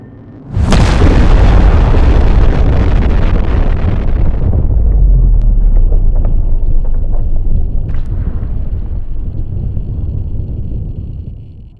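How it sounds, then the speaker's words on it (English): Airstrike explosions in the naval game Sea Power: a sudden, very loud blast erupts and rolls into a long, heavy rumble that slowly decays over several seconds, with faint scattered pops later. "Airstrike complete."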